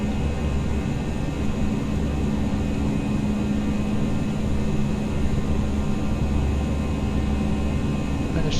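Airbus A319 jet engines from the Toliss model in the X-Plane simulator roar steadily at climb thrust, a constant broadband rumble with a faint whining tone, heard from the cockpit with no talk.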